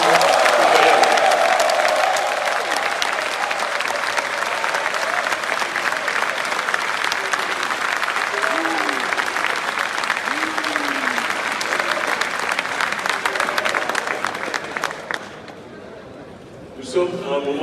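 A large crowd at a political rally applauds and cheers loudly and continuously, a sustained roar of clapping with shouts, then it dies away near the end.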